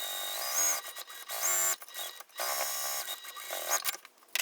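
Sewing machine basting fabric pieces together: rapid, whirring mechanical stitching in short runs with brief stops between them, close and moderately loud.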